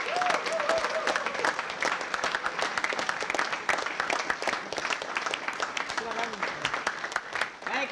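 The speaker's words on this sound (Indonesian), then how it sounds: "beri tepuk tangan yang meriah kepada ketiga peserta" Studio audience at an Indonesian TV game show breaks into sustained, loud applause with steady dense clapping throughout, a voice briefly calling out over it.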